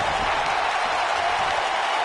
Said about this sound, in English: I don't remember the last time I heard a more passionate crowd than the one we have here tonight